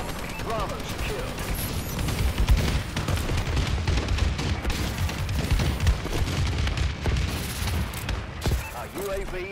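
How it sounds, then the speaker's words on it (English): Explosions from an enemy bombing run in the video game Call of Duty: Advanced Warfare, a continuous barrage of booms and crackling blasts rolling together, fairly loud, with occasional game voice chatter over the top. "Enemy bombing run overhead."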